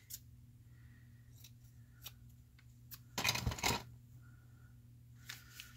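Scissors snip through paper for small booklets, a few quiet, sharp clicks followed by one louder cluster of cutting strokes close by in a quiet room with a low steady hum.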